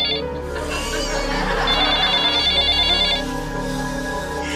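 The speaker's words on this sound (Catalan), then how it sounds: "No l'agafem, no és el nostre telèfon!" An electronic telephone ringtone chirps in a repeating trill for a few seconds, moderately loud indoors over a low background hum.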